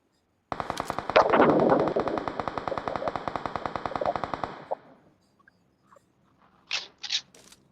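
Automatic gunfire in the mobile shooter game BGMI, a long rapid burst of loud close shots lasting several seconds, then a single shot, near silence and a few brief sharp sounds.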